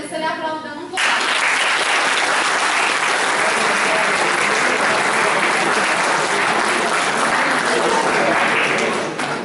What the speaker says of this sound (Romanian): Să le aplaudăm încă o dată